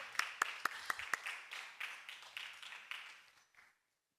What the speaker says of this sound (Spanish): Otro aplauso aquí a las compañeras.